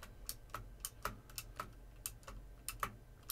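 A loud computer keyboard clatters under quick, irregular typing, with sharp individual keystrokes close by over a low background hum.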